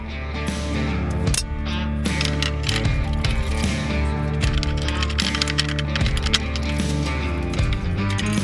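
Mechanical ratcheting and clicking while a new seat is fitted on a John Deere 300 garden tractor, a dense run of close, rapid metallic clicks and tool noise continuing steadily throughout with no talk.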